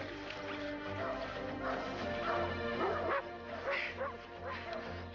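Several dogs released to hunt a burglar bark and yip excitedly in overlapping bursts, fairly close, with a few whimpers amid the commotion, in a dramatic house scene.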